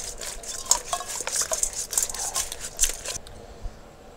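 Chicken wings tossed with sweet Thai chili glaze in a bowl: close, sticky stirring and scraping with light clinks of utensil against the bowl, a few seconds of irregular wet rustling before stopping.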